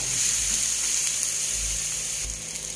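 Fried tofu being stirred in a frying pan beside calabash, sardines and kangkong, giving a steady close sizzle of hot oil with soft scraping from the stirring, no talk.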